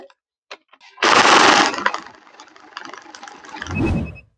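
A money counting machine fed fake banknotes clatters as it runs, with a few light clicks, then a burst of rapid flicking that continues through a busy mechanical stretch and ends in a heavier thump.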